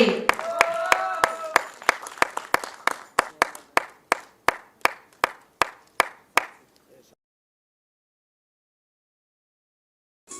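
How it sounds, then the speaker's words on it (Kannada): Audience clapping at a film title launch event, a dense round of applause that thins into a dozen or so loud, evenly spaced single claps before stopping, with speech mixed into the opening seconds. "ಸರ್ ದಯವಿಟ್ಟು ಇನ್ನೊಂದ್ಸಲ ಬರ್ಲಿ ಸರ್ ಚಪ್ಪಾಳೆ"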